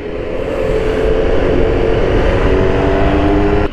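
A BMW R1200GS motorcycle engine runs loud and close, holding a steady, rough droning roar that swells slightly after the first second, with no voices.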